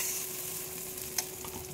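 Radhuni spice paste fries in a pan for a rohu fish and kakrol curry. A quiet, steady sizzle is broken by one short scrape of stirring.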